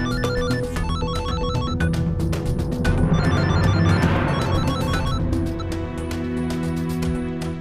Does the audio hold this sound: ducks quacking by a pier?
no